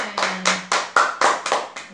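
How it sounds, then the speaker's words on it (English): Hands clapping about seven times in a quick, even rhythm, each clap sharp and close, with no talk. "Let's clap for them."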